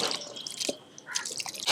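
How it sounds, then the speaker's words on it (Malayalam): A cup of oil left from frying onions poured into Hyderabadi chicken dum biryani masala, a short close stream of splashing drips with a brief pause and a final gush. "ഇനി മസാലയിലേക്ക് നമുക്ക് ഒരു കപ്പ് പൊരിച്ചെണ്ണ കേട്ടോ സവാള വറുത്ത എണ്ണയാണ്"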